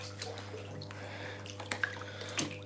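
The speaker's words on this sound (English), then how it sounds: "Let's get the bubbles on." Hot tub bubble jets run with a steady low pump hum beneath bubbling and splashing water, with occasional sharper drips and sloshes close by.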